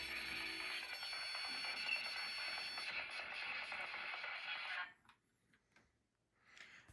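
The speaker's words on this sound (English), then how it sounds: "the REM pod goes off." A REM pod paranormal detector sounds a steady electronic alarm tone, loud and continuous for about five seconds, then cuts off into quiet room noise with a brief faint return at the end.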